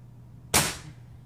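A Benjamin Maximus air rifle fires a single Crosman Piranha pellet: one sharp, loud report alone with no talk, followed by a quick fading tail.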